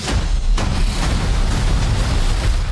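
Explosion: a loud, rumbling, sustained boom with deep low-end roar and crackling debris, filling the whole span with a couple of sharper bursts at the start and near the end.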